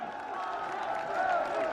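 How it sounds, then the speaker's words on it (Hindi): Audience applause and cheering greet Prime Minister Narendra Modi at a formal public event, a steady dense wash of clapping from a crowd that swells slightly near the end. "आप सब तालियों के प्रणाम उन तक पहुंचाएं"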